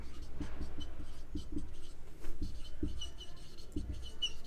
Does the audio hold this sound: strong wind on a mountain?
no